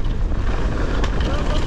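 Wind buffets the microphone during a mountain bike ride at Snow Summit bike park, a loud continuous low rumble filling the whole moment, with a voice briefly heard over it.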